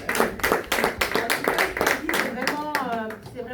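A church congregation claps in a quick, steady rhythm while praising the Lord, with voices speaking and calling out over the hand claps throughout.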